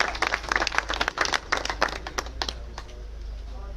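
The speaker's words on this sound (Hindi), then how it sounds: "तालियों के साथ स्वागत विधायक जी का" A crowd at a political welcome for a former MLA in Gohana claps in a burst of sharp, close applause that thins out and fades toward the end, with low hum underneath.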